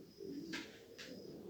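Uzbek-breed pigeons in Osh coo softly and steadily nearby, with two brief rustling bursts that may be wing flutters. There is no speech.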